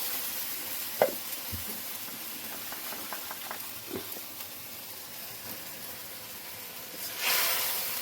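Masala paste for a Bengali prawn curry sizzling in hot oil in a pan, a steady soft hiss with a couple of light clinks and a brief louder burst of sizzle near the end.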